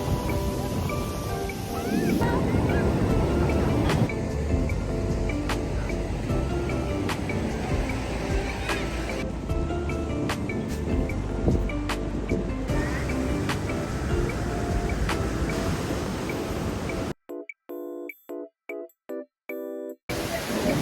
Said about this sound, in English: Oh my god, the wind is so strong.